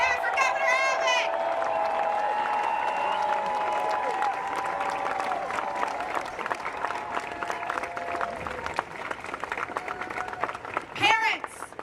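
A large crowd applauds and cheers for Texas Governor Greg Abbott at a Parent Empowerment Day rally at the Texas Capitol, steady dense clapping throughout with a few shouts rising above it.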